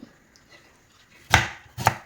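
Two onions being chopped with a knife while cooking chicken kadai at home: two loud, crisp knife strikes on a cutting board, close by, following a quiet pause.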